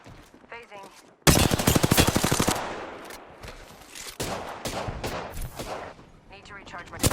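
Loud bursts of rapid automatic gunfire in a video game, a sharp onset followed by repeated volleys that fade into scattered shots, with a player's voice talking over the fighting.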